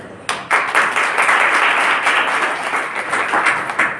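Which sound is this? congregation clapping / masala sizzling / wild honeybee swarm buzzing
congregation clapping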